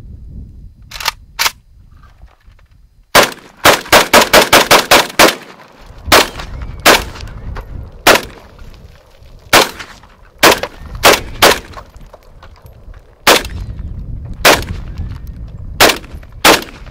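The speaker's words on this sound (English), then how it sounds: "Well, it's your turn to shoot the AK-47." An AK-47 rifle fires outdoors at a shooting range. Loud, sharp single shots ring out with pauses between them, broken by a quick rapid string of shots, and each crack fades into a short echo.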